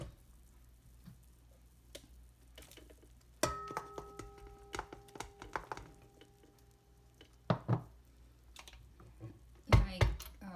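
Flour is slowly stirred into a pandesal bread dough mixture, producing quiet, sparse taps and soft squishy scrapes close by, with a few sharper knocks toward the end.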